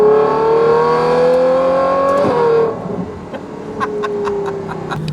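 Novitec-tuned Ferrari 812 N-Largo V12 revving loudly nearby, its pitch climbing steadily for about two seconds before snapping off and settling back to a lower, steadier drone.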